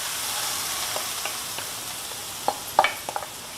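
Grated mango and ginger stirred into hot sesame oil for a mango ginger thokku, a soft steady sizzle with faint stirring scrapes and a few sharper spatters near the end, no talking.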